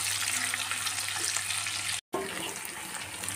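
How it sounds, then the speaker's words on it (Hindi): Onion and green chili frying with cumin in a pan, a steady loud hiss and crackle filling the whole clip, broken by a brief silent gap midway. "जीरा के साथ ही प्याज और हरी मिर्च को ऐड करूंगी और इसे हल्की सी ब्राउन होने तक फ्राई करूंगी"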